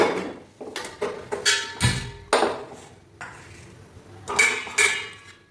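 Metal pot and steamer being set up on a kitchen counter for steaming chicken tandoori: a series of separate clanks, knocks and rings of metal cookware, close and sharp with quiet gaps between.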